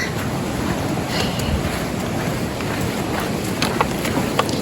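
Cold Springs Creek on a hiking trail to Blue Lake in Washington, a steady broadband rush of flowing water with wind noise, continuous and loud throughout.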